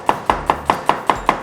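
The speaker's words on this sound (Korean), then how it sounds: "그래서 양파는 얇게 채를 썰어주세요." Seven evenly spaced knife strokes hit a cutting board while an onion is sliced thinly, giving a crisp, regular chopping rhythm that is close and clear, with no voice.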